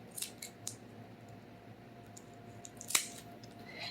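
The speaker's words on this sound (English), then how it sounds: "So I am just going to clip this bag open." Scissors snip open a plastic oven bag holding a Butterball turkey breast, giving a few quiet, sharp clicks spaced apart, with one crisper cut standing out near the end.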